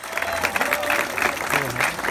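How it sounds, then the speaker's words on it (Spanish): Audience applause at an outdoor street-performance awards ceremony at the Cosquín festival, a steady wash of clapping throughout with a voice speaking over it. "¡Ay, vamos a renovar el aplauso!"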